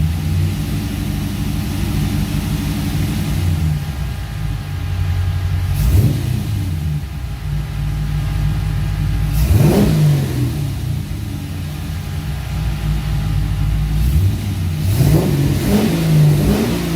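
An LS V8 swapped into a Porsche 944, carbureted with MSD ignition timing, idles with a heavy rumble and is revved three times in sharp blips that climb and fall back, loud and close with no talking.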